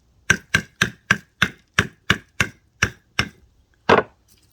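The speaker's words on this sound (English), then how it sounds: "I'm going to use a waddy and a fine chisel." A waddy strikes a fine chisel to divide a dahlia crown: ten crisp, evenly spaced taps, close and clean, followed after a short pause by one heavier blow.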